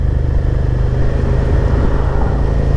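A 2022 Suzuki SV 650 ABS motorcycle rides along, its engine droning loud and steady as one continuous rumble with no talk.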